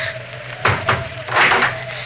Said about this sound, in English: Then we'll close the shutters.